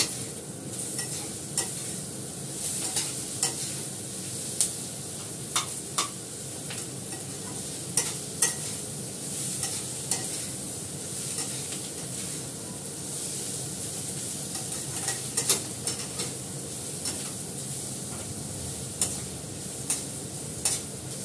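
Food fries in a pan with a steady, moderate sizzle while a utensil scrapes and stirs in frequent sharp strokes. The sound runs on at length with no talking.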